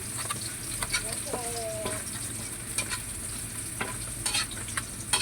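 Ginger frying in a pan, a steady faint sizzle with light stirring clicks and utensil taps scattered throughout, close and fairly quiet.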